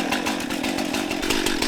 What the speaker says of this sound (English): There's many ways to cut a tree down with a chainsaw.